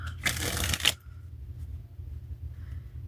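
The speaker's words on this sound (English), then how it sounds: "I just gotta shuffle that one more time." A deck of tarot cards is riffled in one quick, close burst of rapid papery flutter that lasts under a second and ends with a snap, followed by near silence.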